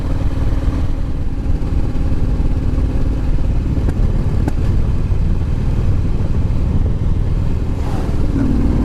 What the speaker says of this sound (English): I open that throttle up as far as I can. Nothing. It's maxed out.